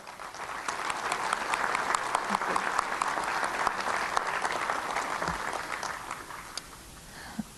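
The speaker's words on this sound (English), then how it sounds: "I'd like to give them a round of applause for their work" Sustained audience applause at a White Earth Nation State of the Nation Address in 2014, honoring a tribal development team, steady and dense for several seconds with scattered sharper claps throughout.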